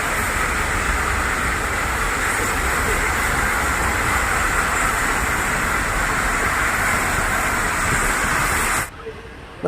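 Mettupalayam–Ooty train running, a loud steady broadband roar and hiss of the moving train heard from on board, continuous for most of the stretch before dropping away abruptly near the end.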